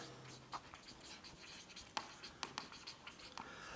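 Pen writing numbers on paper during a class 3 maths lesson on ascending and descending order, heard as faint, close scratches and light taps in short irregular strokes against quiet room noise.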